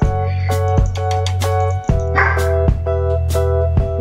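A dog in the blocky survival game Minecraft gives a string of short, evenly spaced barks. It sits in a small player-built house and is heard close and clear over a steady tonal background.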